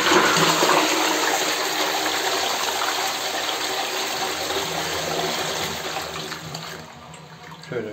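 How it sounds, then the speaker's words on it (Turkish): A toilet flushes right after the bowl is cleaned, with a loud, close rush of gushing water that runs steadily for several seconds before easing off toward the end. "Şimdi sifonu çekiyoruz."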